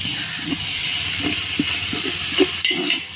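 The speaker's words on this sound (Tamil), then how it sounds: "இஞ்சி பூண்டு பேஸ்ட்டு அடி பிடிக்காமல் கிண்டணும்" Onions and ginger-garlic paste sauté in a pan for dum biryani, giving a continuous hiss broken by a series of soft knocks and scrapes as the mixture is stirred.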